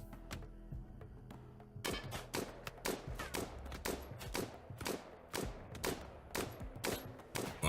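Gunfire from a gun complex in RimWorld, sharp repeated shots in an uneven rapid series of cracks and thumps running throughout, moderately loud with no talk.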